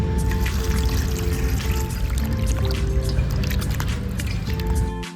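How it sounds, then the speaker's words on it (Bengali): Water splashes and drips steadily over cut pumpkin pieces being washed by hand, a continuous wet, squishing, pouring wash that stays loud and close throughout, with no talking. "এবার আমি জল দিয়ে ভালো করে ধুয়ে নেব।"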